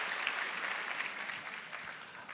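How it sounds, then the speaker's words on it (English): Church congregation applause during a singles' night sermon, a soft, steady patter of many hands heard from a distance for a couple of seconds with no talking over it. "You can clap for that"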